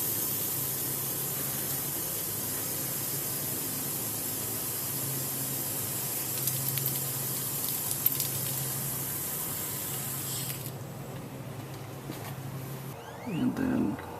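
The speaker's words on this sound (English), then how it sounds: "If you spray air down the filler tube, you can actually get more fluid out." Compressed air at about 10 psi sprayed down the transmission filler tube of a Ford Crown Victoria, a steady close hiss that runs for over ten seconds and then tapers off.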